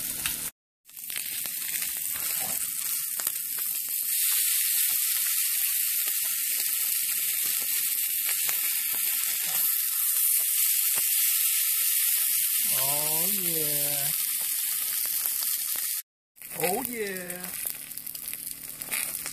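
Corned beef hash frying in a pan at breakfast, giving a steady, close crackling sizzle that runs nearly the whole time, with brief breaks and a person talking over it near the end.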